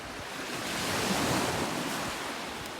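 Surf washes onto the beach at Corny Point on the Yorke Peninsula, a broad continuous roar of breaking waves swelling slightly in the middle, with wind across the microphone.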